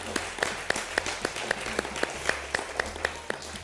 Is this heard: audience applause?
yes